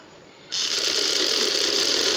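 A sewing machine stitches piping onto matching trouser fabric, starting abruptly after half a second and then running as a steady, fast, close mechanical whir with no talk.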